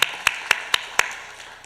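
Congregation clapping at a Sunday morning church worship service: five sharp, evenly spaced claps about a quarter second apart, fairly faint, then the sound fades with no talk.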